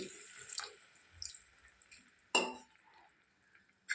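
A little water splashes and trickles into a drumstick curry in a pan, close and fairly quiet, with one brief louder splash midway.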